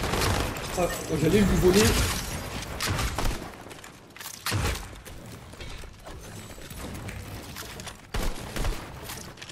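Shotgun blasts from a Fortnite match: a few sharp, booming bursts spaced seconds apart, mixed with game clatter, while someone talks in French over them.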